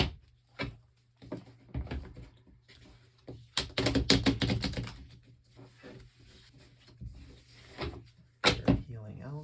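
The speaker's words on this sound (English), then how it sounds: "I'm gonna see how I can't shuffle." Magic: The Gathering cards are shuffled at a table in a series of quick riffling and clattering bursts between pauses, with people talking quietly in between.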